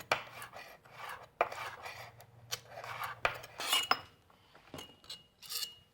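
Chef's knife rocking tip-down across a cutting board while preparing beef roulade, giving a series of close, uneven tapping and scraping strokes with faint clinks between them, no talking.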